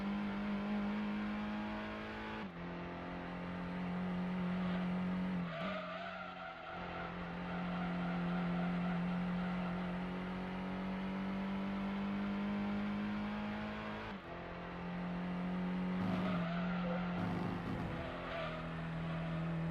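In a racing video game, a car engine drones steadily at high revs with brief gear-shift dips and bursts of tire skidding, all at a low level without talk.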